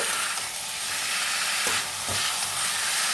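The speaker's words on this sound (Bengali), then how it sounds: "এটাকে নেড়ে ভাজতে হবে খুব ভালো করে" Chicken frying with tomato in a pan, a loud, dense, hissing sizzle that holds steady throughout, with a few soft stirring knocks, close up and without speech.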